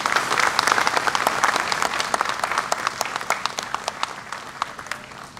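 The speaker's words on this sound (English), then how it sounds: "round of applause, please" A round of applause from the audience at a D-Day 80th anniversary event at a museum of American armor, dense clapping that is loud at first, then slowly thins and fades over a few seconds.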